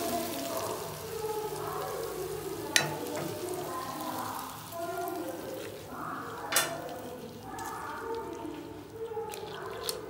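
Tempering poured into chintakaya tokku pachadi, a ground tamarind chutney, giving a steady close sizzle and crackle with a few sharp pops and stirring scrapes throughout.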